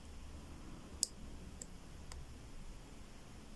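A lock pick setting a pin in an Era 6-pin half Euro cylinder lock, giving one sharp, close click followed by two fainter ticks against a quiet hiss.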